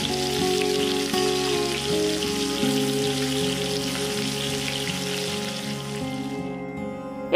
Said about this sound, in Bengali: তেলটা গরম হয়ে এলে আমি ওর মধ্যে নুন হলুদ মাখানো চিংড়ি মাছগুলোকে একে একে